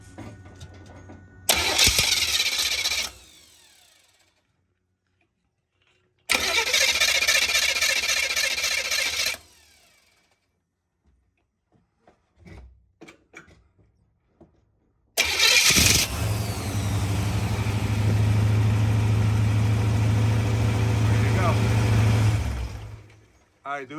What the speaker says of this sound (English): you're gonna see that gear on the starter should shoot out and grab that flywheel and turn it over